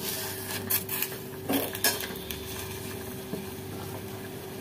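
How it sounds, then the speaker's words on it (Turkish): Tomatoes simmer in a pot, a steady low bubbling hiss running throughout, with a few light clinks of cookware. "Domatesimiz kaynamaya başladı."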